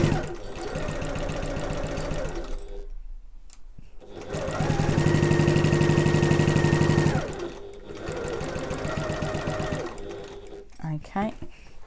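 A sewing machine runs close and loud, stitching a backpack seam in steady bursts that pause and restart as the fabric is pivoted, with a brief quiet gap between runs.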